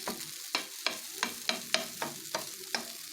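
Egg stirred lightly over a chicken kari dosa frying on a pan: about nine evenly spaced scraping strokes of a utensil on the hot surface over a faint sizzle, close and fairly quiet.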